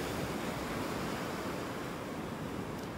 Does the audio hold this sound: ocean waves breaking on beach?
yes